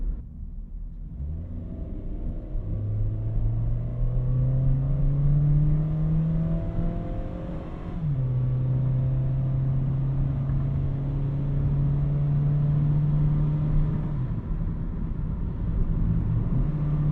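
Engine of a 2013 Honda Fit driving fast through curves, a steady close drone that climbs in pitch, drops sharply at a gear change, then climbs again, with no talking.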